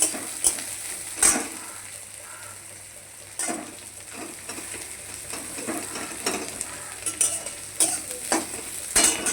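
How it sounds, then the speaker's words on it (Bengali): Small kachki fish sizzle in hot oil in a pan with salt, turmeric and chilli, while a utensil scrapes and stirs in repeated sharp strokes over a steady frying hiss. "ভাজা হবে একটু, পেঁয়াজ রসুনটা কুচনো আছে, লাল লাল ভাজা হবে।"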